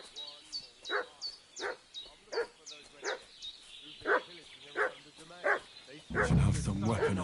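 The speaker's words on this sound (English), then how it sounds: "What's that dog making such a fuss about?" A dog barks in a steady series of about ten separate woofs at moderate distance, with chirping birds overhead early on and a louder rustling burst at the end.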